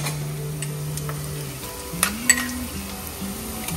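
Ginger and garlic sizzle faintly in a pan for a mutton liver curry, a soft, steady frying hiss with a couple of brief clinks, under a low tonal hum.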